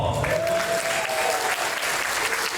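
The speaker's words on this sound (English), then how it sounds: "Would you please give Beam a big round of applause?" Audience applause at a Chamber of Commerce annual dinner and awards event, a dense, steady wash of many hands clapping throughout.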